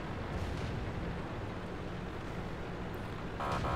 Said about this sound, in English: The Stug has just been killed through blind fire of our artillery